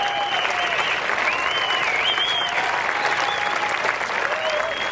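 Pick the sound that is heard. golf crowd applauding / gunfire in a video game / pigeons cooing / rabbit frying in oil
golf crowd applauding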